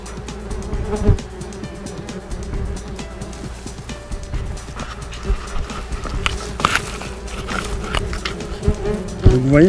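German wasps buzz around their nest in a steady, dense drone of many insects close by, with a few knocks and handling noises over it.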